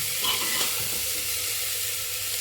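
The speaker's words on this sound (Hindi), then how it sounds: "इसको फिर नमक डाल के भून लेते हैं" Lobia curry masala with salt frying in a pan, a loud, steady close sizzle with the spatula stirring through it, no voices.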